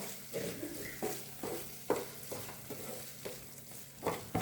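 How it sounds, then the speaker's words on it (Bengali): Mutton keema frying in a pan while a spoon stirs it in regular scraping strokes, about eight of them, each over a low sizzle, with nobody speaking. "আবারও সব কিছুকে খুব ভালো মতো মিশিয়ে নেবো।"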